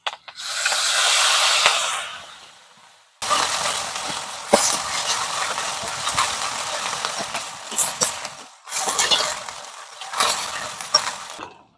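Onion paste and slit green chillies hit hot oil already seasoned with nigella seeds, for a hilsa malai curry, giving bursts of loud broadband sizzling that stop and restart several times, with scraping and clinking of the pan between surges.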